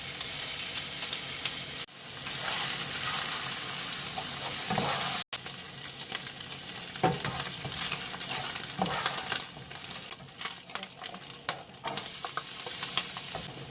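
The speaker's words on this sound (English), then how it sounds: "we're just going to add our sausages to the pan with all that bacon fat" Sausages frying in rendered bacon fat in a pan crackle and sizzle continuously at close range, with a brief dip and a sharp break partway through and busy spattering toward the end.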